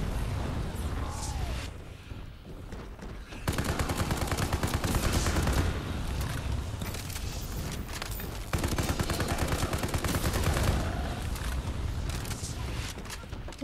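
Sustained, dense gunfire from a Call of Duty Zombies match, with rapid bursts nearly filling the stretch, easing briefly and then returning loud and continuous.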